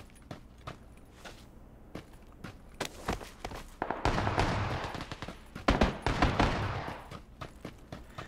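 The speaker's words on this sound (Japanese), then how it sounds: "これすげえ足音聞こえんな。" Footsteps crunching in PUBG Mobile, a steady rhythm of soft steps and handling sounds punctuated by sharp nearby gunshots and a few louder bursts in the middle.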